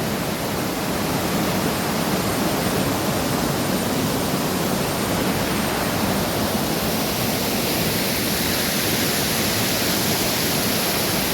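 A waterfall pours steadily with a dense, even roar of rushing water, close and loud throughout with no pauses or voices.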